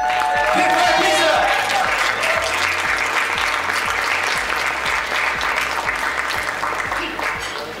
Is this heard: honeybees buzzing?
no